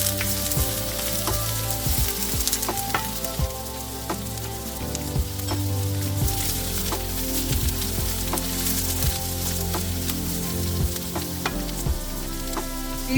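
Chopped onions hit hot oil in a pan for Kerala-style beef fry, giving a loud, continuous crackling sizzle with scattered sharp pops and occasional clinks, no voices.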